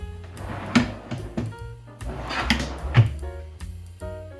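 A wooden drawer slides open and shut a couple of times after being shimmed, each pass a close, smooth rumble ending in a soft knock, over a faint background hum.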